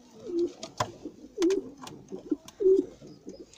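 Fancy pigeons kept for looks coo in three or four low, rolling calls close by, with quiet pauses and soft rustling in between.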